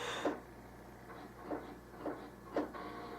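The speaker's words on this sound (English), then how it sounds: "it's the printer freaking out" A printer acting up, giving off a quiet run of short mechanical clicks and whirs, about four soft bursts at irregular intervals over a steady low hum, with no talk.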